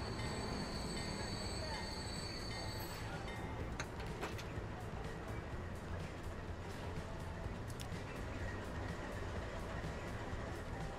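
A train rolls steadily along in the video game Transport Fever 2, a continuous loud rumble of wheels and cars with occasional squeals and clicks and no talk.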